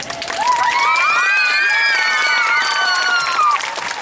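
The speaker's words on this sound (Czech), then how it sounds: "všichni účinkující a organizátoři si zaslouží jeden velký závěrečný potlesk" Loud closing applause and cheering from a crowd at a Prague–Ostrava gala show, honoring performers and organizers; dense clapping with whoops and high shouts runs steadily through the whole stretch.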